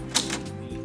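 A single brief mechanical clack from a typewriter key, struck once over a low steady indoor hum.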